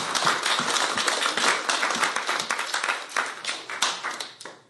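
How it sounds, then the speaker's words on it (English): Dense audience applause at a payments meetup, a full crowd clapping loudly and continuously before it tapers off at the end, with no voices. "Let's give them a big round of applause."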